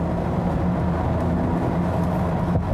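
Volvo V90 T5 estate cruising on a wet Autobahn, a steady low engine drone mixed with road and tyre roar, constant and fairly loud with no voices.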